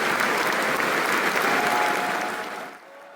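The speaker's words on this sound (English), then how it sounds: "I can't show you the concert, but I can show you the applause." Applause from a concert audience for the LA Philharmonic led by Gustavo Dudamel fills the hall, with dense clapping from many hands that stays loud and then tapers off near the end.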